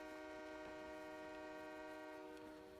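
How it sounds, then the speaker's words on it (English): A train passes in the Farming Simulator game Western Wilds map, its horn sounding as a sustained steady chord, faint and continuous with rail noise beneath. "Oh, look, the train's coming by."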